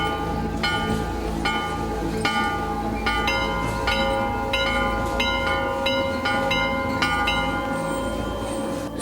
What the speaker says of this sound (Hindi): मंदिर घंटी बजाउँछ।